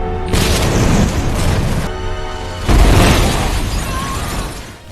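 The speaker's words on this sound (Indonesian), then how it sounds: "meledak" A house blows up from a time bomb in an action film, two heavy booming blasts a couple of seconds apart, each a loud broadband roar with shattering debris that fades out, no speech.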